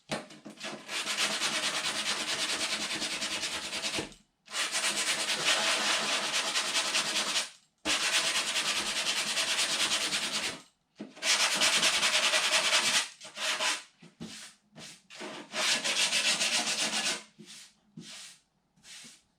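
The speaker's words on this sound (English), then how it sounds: "I'm going to use 60 grit on the block." A sanding block loaded with 60 grit paper scrubs body filler on a car panel in long, loud, steady strokes of several seconds each, separated by brief pauses, with a quicker choppy flurry near the end.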